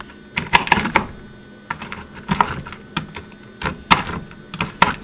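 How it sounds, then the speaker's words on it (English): Quick clusters of knife taps sound as pecans are chopped finely by hand on a board. The bursts of light, rapid clicks come in uneven groups, close and distinct, with no voices. "You want these chopped fairly finely."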